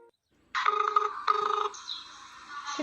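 A telephone rings unanswered in a quiet room, with a bright repeating electronic ring tone that starts abruptly and carries on steadily at moderate loudness.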